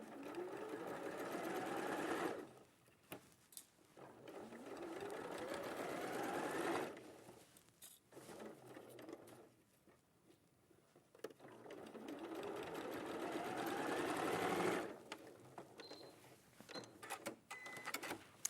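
A domestic sewing machine stitches a quilt seam for a Valentine quilt in bursts of steady whirring, with three long runs separated by pauses, close and fairly quiet, with light handling noises between runs.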